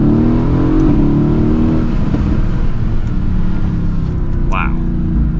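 A 2016 Mercedes-AMG GT S accelerates hard past roadside barriers, its exhaust a loud, continuous low roar that builds and holds throughout, with a brief whistling chirp near the end.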